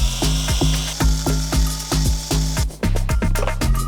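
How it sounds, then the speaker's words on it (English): A rapid mechanical ratcheting whir repeats in short bursts, close up, with a steady rhythmic clicking as a power tool drills screw holes into a car door panel. "Now I'm gonna screw some holes so we can put these lights in"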